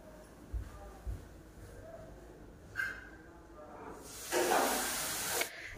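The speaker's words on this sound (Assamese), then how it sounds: "কেৰাহীত চব্জি উঠাই দি থৈ আহিছোঁ লৰাই দি চাওঁ" Vegetables sizzling in a wok as they are stirred, a soft steady hiss with brief scraping, swelling into a louder burst of sizzle near the end.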